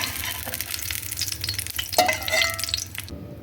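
Buckwheat patties over sliced potatoes and a little water in a stewing pan, a soft steady sizzle and bubbling with light stirring and a few clinks, close and alone.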